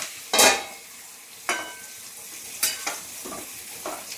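Whole spices crackle and sizzle in hot oil for a Bengali shrimp curry with bottle gourd stems, with a few sharp stirring scrapes spaced apart over a steady low frying hiss, close and alone.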